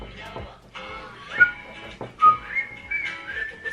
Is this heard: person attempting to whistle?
yes